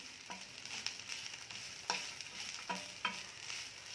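Coconut and spices for sambar roast in a dry pan with a soft background sizzle, broken by three or four distinct scraping strokes of a spoon against the pan, close and fairly quiet.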